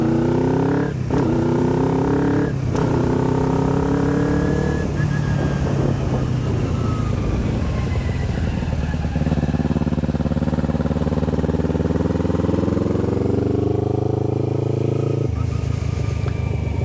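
A track motorcycle ridden on a track, its engine droning and revving through shifting pitches, close and steady throughout with brief changes in tone as it accelerates and eases off.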